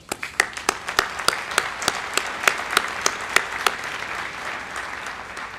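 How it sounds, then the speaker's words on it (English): An audience at a spring graduation ceremony claps in a thin, sparse burst: about fifteen distinct, sharp claps, some of them sounding together, quickly tapering into a soft, fading patter. "I'd like to give you a round of applause for doing that."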